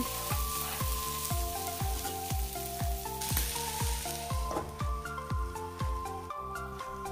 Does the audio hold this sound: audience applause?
no